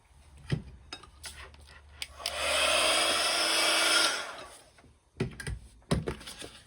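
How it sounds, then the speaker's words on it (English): A heat gun blows over a piece of mixed media art, making a steady, airy roar for about two seconds. Light taps and clunks come before and after it, with no talking. "let's give that a quick clean up before I get the heat gun on it"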